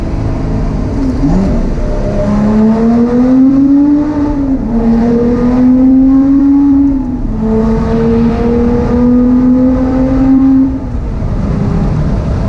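A Lotus Exige Sport 380 engine revs loudly up close while warm, its pitch climbing and dipping through several sustained pulls before dropping back.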